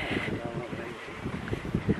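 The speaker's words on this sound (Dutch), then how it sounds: "Het waait lekker." Steady outdoor wind rushes across the microphone, a broad blustery noise running throughout with faint low murmurs underneath.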